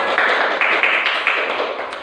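A classroom of students claps for a classmate, a short burst of brisk, fairly loud hand clapping with a few sharper accents, steady for two seconds.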